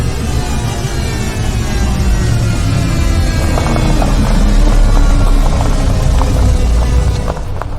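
A drone hovers above a van, its loud, steady buzzing whir filling the scene and holding constant throughout.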